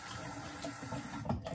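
Water from a faucet runs steadily as a caught catfish is rinsed off before filleting, a close, continuous splashing wash with slight bubbling variations near the end.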